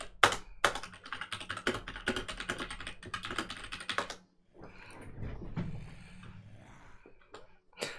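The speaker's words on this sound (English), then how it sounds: "Bro, I was typing!" Fast, clattering keystrokes on a computer keyboard during a Terraria gaming stream, a dense burst of clicks that pauses briefly and then resumes more softly amid room noise.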